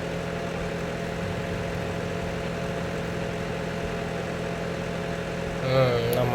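A tractor engine runs at a steady, low hum on a farm during harvesting, a constant mid-distance drone that holds unchanged until a brief rise in noise at the very end.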